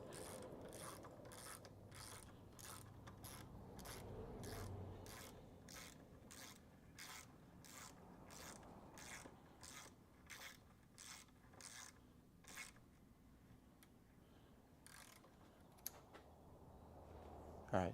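A torque wrench clicks in rapid, evenly spaced ratchet ticks while tightening a nut held in a vise, recorded close up; the clicking slows and thins out toward the end.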